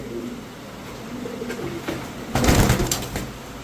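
Restless Teddy pigeons coo and stir on a farm, low soft coos under a noisy background that rises into a louder flurry of movement near the end.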